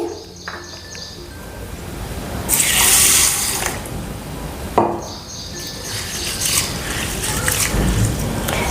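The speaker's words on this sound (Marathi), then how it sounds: "दोन पाण्यानं उडीदाची डाळ धुवून घेतली" Water splashes and pours in two rushing bursts as urad dal is rinsed in a vessel, with sloshing and swirling between the pours.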